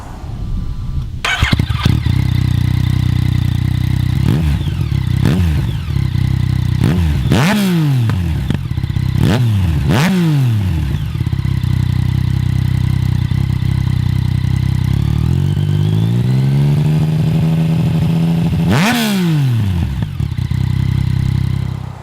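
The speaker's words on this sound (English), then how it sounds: "the Kropovich titanium exhaust system. It totally transforms the sound of the bike" Yamaha MT-09 motorcycle with an Akrapovic titanium exhaust, loud and close, idling steadily and blipped through several sharp revs, with a longer rising rev near the middle and a final hard blip, no talking.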